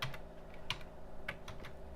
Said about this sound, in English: I use an American keyboard, so it's not easy for me to finally find a way